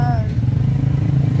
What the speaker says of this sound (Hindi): भाई अब हम बाइक पे बैठ गए हैं